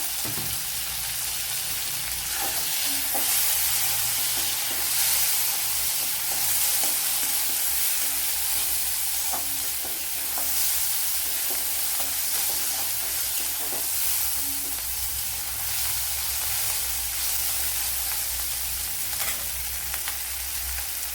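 Chopped small tomato sizzles in a hot pan for a Kerala evening snack, a steady loud frying hiss with repeated scraping stirs throughout, and no talking.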